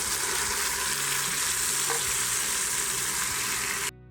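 Tomatoes sizzle and fry loudly and steadily in ginger garlic paste for masoor daal, with occasional stirring, then cut off abruptly at the end.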